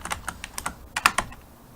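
Rapid keystrokes clack on a computer keyboard during PowerShell work, a close, crisp burst of about a dozen taps in uneven clusters with short pauses, no talking over them.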